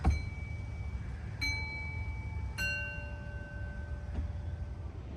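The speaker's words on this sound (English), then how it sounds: "He's ringing his bell." A bell rung by a man at Disney's Caribbean Beach Resort gives three bright, clear dings spaced about a second apart, each with a long ringing decay, then a faint fourth tap, over low room hum.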